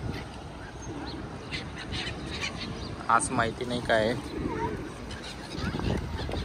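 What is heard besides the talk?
birds coming to be fed by the water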